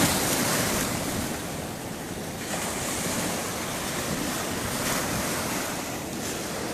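Ocean surf rolling onto the shore in early morning, a continuous broadband wash of breaking waves with steady loudness, some wind buffeting the microphone, and no voices.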